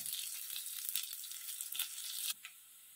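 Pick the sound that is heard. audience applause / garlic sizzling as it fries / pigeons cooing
garlic sizzling as it fries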